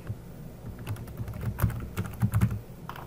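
Keys tap in quick irregular bursts on a computer keyboard as a name is typed, the clicks close and clear over a low background hum, with no talking.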